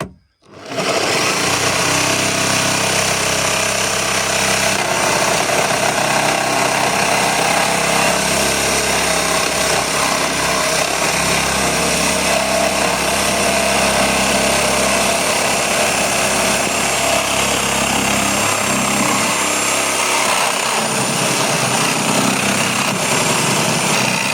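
A reciprocating saw set to speed three cuts steadily through material for over twenty seconds, its loud, continuous high-pitched buzzing and rattling motor holding an even level with no talk over it.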